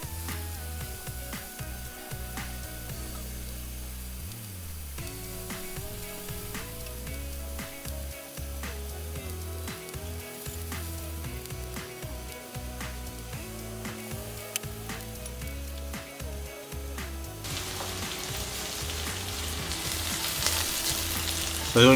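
Onion frying with chorizo in a Dutch oven, a steady close sizzle with bursts of stirring scrapes and clatter throughout, growing slightly louder toward the end.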